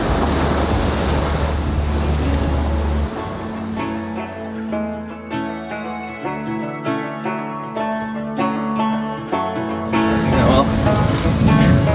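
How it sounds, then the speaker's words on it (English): A sailboat heeled over and running north in a stiff southerly breeze brings heavy wind rush and wave wash, with low droning tones and some tonal clatter through the middle. "We're moving along nicely in the stiff southerly breeze, headed north"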